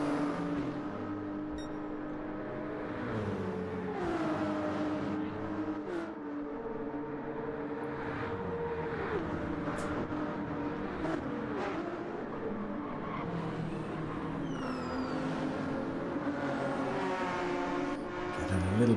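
Race cars speed around the Nürburgring Nordschleife in a racing video game, engines droning and shifting steadily with passing whooshes, while a commentator talks over the continuous engine noise.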